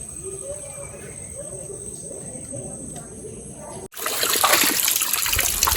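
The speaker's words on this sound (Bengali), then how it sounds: "পানি পড়ছে" Water trickles gently beside a stream while fishing, with crickets chirping, then abruptly gives way to a louder, rushing fall of water splashing down.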